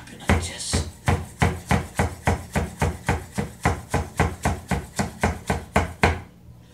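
A knife chops fresh mint on a board in a steady, even rhythm of about twenty close, crisp strikes that stop suddenly, with no talk over them.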